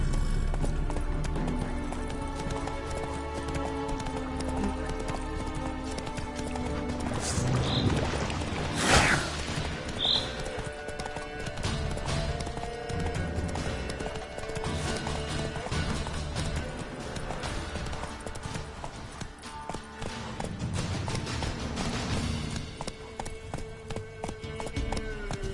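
Roach the horse from The Witcher 3 gallops in steady clip-clop hoofbeats over ambient game sound, with a brief whoosh and a neigh partway through, moderately loud throughout.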